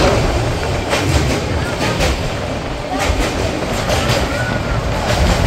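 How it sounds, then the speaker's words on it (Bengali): The Jammu Tawi Express runs past Dakshineswar near Kolkata with a loud, steady rumble of wheels and a rhythmic clatter over rail joints, heard from inside the moving train. "আমাদের ট্রেন সবে দক্ষিণেশ্বর ক্রস করলো"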